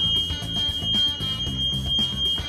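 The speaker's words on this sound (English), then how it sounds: "device is again giving the alarms" A steady, high-pitched electronic alarm tone from a ship's navigation system signalling GPS position loss sounds continuously over a low, rumbling engine-like background hum.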